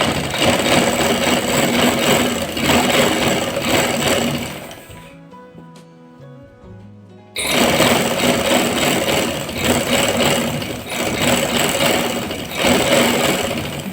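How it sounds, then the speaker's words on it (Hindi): A sewing machine stitching the seam of a simple trouser runs as a loud, steady mechanical whir, stops for about two seconds, then resumes at the same fast, even pace, with no talking. "अब हम इसकी इस हिस्से से सिलाई स्टार्ट करेंगे।"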